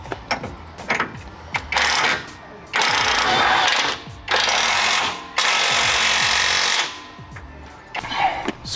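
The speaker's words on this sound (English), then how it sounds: "Tighten the driver side steering rack bolt and replace the passenger side bolt." A steering rack bolt on a Ford Bronco is driven tight with a power tool in several loud, close rattling bursts, each a second or so long, separated by short pauses and small clanks.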